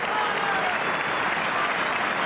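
A football crowd at an Ireland versus Brazil friendly breaks into sustained applause, a dense, steady wash of clapping from many hands that fills the stadium throughout.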